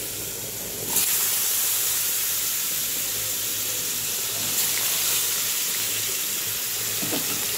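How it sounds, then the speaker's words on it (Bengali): Potatoes fry in hot, spattering oil after bitter gourd. A loud, continuous broadband hiss and sizzle runs throughout, with a sudden surge near the start and no talking. "এবার তো আলুটাও ভাজতে লাগবে"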